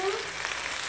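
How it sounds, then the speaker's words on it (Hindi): Ginger garlic paste frying in hot oil with golden onions for chatpata beef, a dense, continuous sizzle that fills the short moment without pause. "अब मैं इसमें ऐड करूंगी अदरक लहसुन का पेस्ट। इसको भी हम इसके साथ फ्राई करेंगे।"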